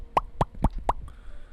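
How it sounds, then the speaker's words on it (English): Four quick hollow bubble pops in a loose, even sequence, crisp and close, with a faint extra blip after them and near silence in between. "That's the sound of me popping your anxious negative beliefs."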